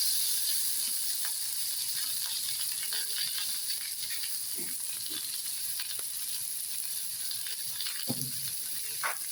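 A cut medium tomato sizzles and fries in a pan for Bengali tangra fish soup, a steady bright hiss close by with a few faint clinks and stirring scrapes scattered through it.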